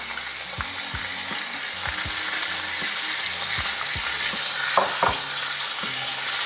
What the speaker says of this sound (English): I'm going to add our seasoned butter to the top.